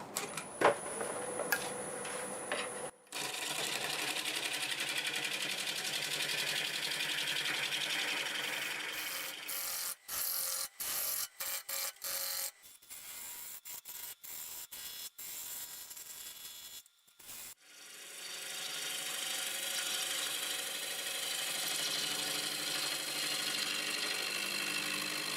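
Walnut piece spinning on a wood lathe while a tool cuts it, a steady broadband whir with brief gaps and chattering bursts midway, then steady cutting resumes, close and fairly loud with no talk.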